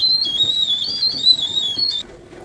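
A pressure cooker on the stove, cooking milk for homemade junnu cheese, lets out a shrill, wavering high whistle that holds for about two seconds and then cuts off sharply, leaving quiet kitchen noise.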